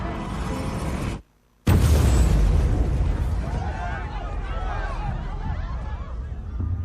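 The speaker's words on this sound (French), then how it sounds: "il y a eu une explosion" A film scene of the Boston Marathon bombing: after a brief moment of silence, a sudden loud blast bursts out, followed by sustained crowd commotion and scattered shrill tones.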